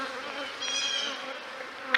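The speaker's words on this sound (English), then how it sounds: "the bees are over there working" Honeybees buzzing around a colony during a hive split, a soft continuous hum of many wings with a brief louder pass near the end, quiet and close, with no talking.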